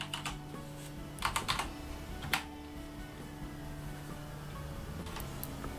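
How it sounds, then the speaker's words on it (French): Computer keyboard keys pressed in a few quick clicks, a small cluster then a single tap, faint and close over a low steady electronic hum. "J'appuie sur Enter pour valider la modification."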